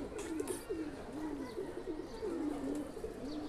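Pigeons kept as racing and tournament birds coo steadily at close range, a low rolling warble repeating throughout with faint chirps above, no talk over it.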